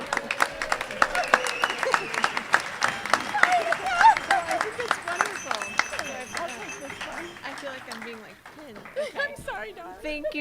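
Rotary Club of Tucson members at a weekly meeting break into sustained clapping and cheering that fills the room, with scattered voices and chatter mixed in before the applause thins toward the end.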